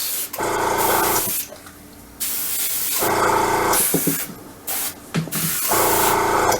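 Paint sprayed onto an M551 Sheridan tank scale model in repeated bursts of close, loud hissing, each lasting about a second with short pauses between.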